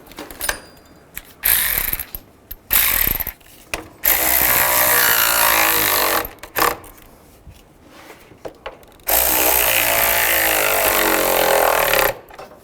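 A ratchet tightens the radiator fan assembly bolts on a 2010-2017 Chevrolet Equinox, in several loud, close bursts of rapid clicking separated by short pauses, with no talking.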